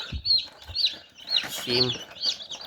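Chicks newly hatched in an incubator peeping close by, a run of high, thin cheeps repeating irregularly, with a brief lower murmur in the middle.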